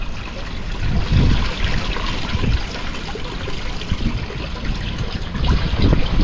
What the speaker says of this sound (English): it looks like he's got a pretty good little river going through here